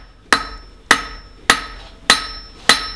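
Five evenly spaced hammer blows ring out on steel as a hotdog fork is tapered and flattened, each strike sharp and metallic with a short ringing decay, close and loud.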